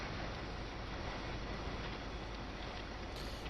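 A train rolls into a yard in the game Train Sim World, on the Main-Spessart-Bahn route, as a dense, steady rumble and hiss of wheels and motion that holds at an even level, with no talking.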